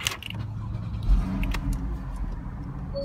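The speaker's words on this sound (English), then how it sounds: "Start the car." A Porsche with the PDK double-clutch gearbox fires up from inside the cabin: a brief clatter and key jingle, then a burst as the engine catches and settles into a steady, close idle rumble.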